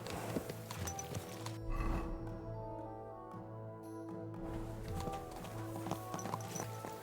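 Steady clip-clopping of horse hooves at a walking pace in the video game Kingdom Come: Deliverance 2, fairly close, with a rumbling ambient bed and no talking.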